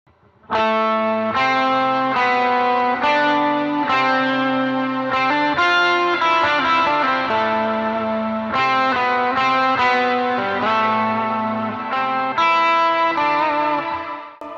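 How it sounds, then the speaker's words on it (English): Electric guitar played with a thick overdriven tone, an octave doubling and lush reverb, chords and notes ringing continuously and loudly with no voices. "let me get some reverb."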